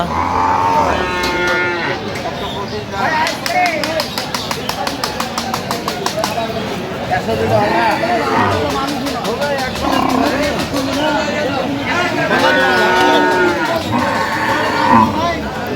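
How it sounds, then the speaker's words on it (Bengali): Dairy cows and calves mooing repeatedly amid a busy crowd at a cattle market in Aftabganj, Dinajpur, with people talking loudly throughout and some engine noise in the background. "গাভী বাছুর আমরা দেখছিলাম এখানে"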